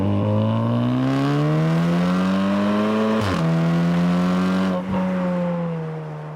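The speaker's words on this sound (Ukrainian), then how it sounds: "натискаєш сильніше педаль газу" A 400-horsepower Volkswagen Golf R accelerates hard, its engine note climbing steadily in a loud, close rising drone, then dropping briefly at a gear change before climbing again, fading slightly at the end with no talking.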